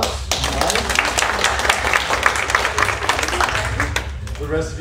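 A lecture audience gives a burst of dense, lively applause, many hands clapping close and loud before tapering near the end, with some talk mixed in.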